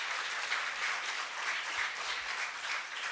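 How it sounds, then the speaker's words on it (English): Audience applause at a school nutrition policy prize-giving ceremony, steady dense clapping from many hands throughout, moderately distant and even. "And I want you to give yourselves a huge round of applause."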